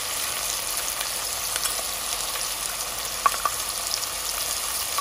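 Hot oil sizzles steadily in a pan while chicken rezala is being made, a dense, even crackle with a few sharper pops near the end and no talking.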